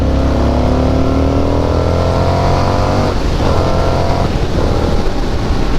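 A 2024 Indian FTR R Carbon motorcycle engine holds a steady loud drone, then revs climb sharply as the throttle opens, pitch rising through repeated surges with no talk over it.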